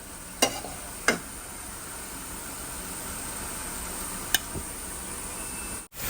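Ginger and garlic fry in a pan on a stove, giving a soft steady sizzle with a few sharp clinks and scrapes from stirring. No one speaks.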